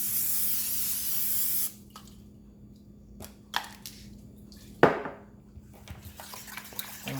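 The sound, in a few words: spraying cooking spray onto Cuisinart waffle maker pan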